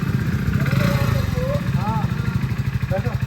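Motorcycle engine running steadily in a village setting, a low rumbling drone throughout with a person talking over it.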